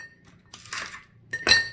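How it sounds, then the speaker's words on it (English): Ice cubes dropped into a glass while mixing a haymaker's punch drink give a few quick clinks and rattles, with two louder bursts close to the microphone and brief quiet between them. "So I like to put the ice cubes in first"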